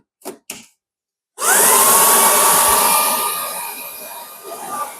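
A Green Light self-emptying station switches on with a sudden loud, steady whoosh of suction as it empties a robot vacuum, a rising whine settling into a continuous roar that runs on without pause after two brief knocks.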